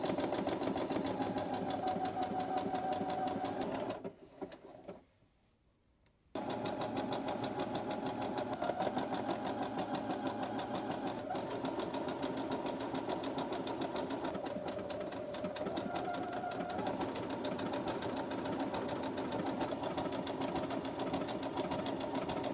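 A new sewing machine stitching a Halloween quilt, its fast rhythmic needle running steadily and close, briefly stopping for a couple of seconds before starting again, with no talk.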